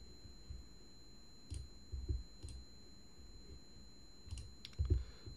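A computer mouse clicks during a software walkthrough, with several sharp, faint clicks scattered irregularly through otherwise quiet room tone, sometimes in quick pairs.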